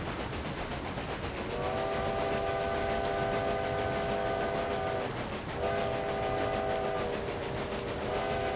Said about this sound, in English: There's quite a passenger train waiting over there.